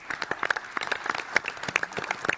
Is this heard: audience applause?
yes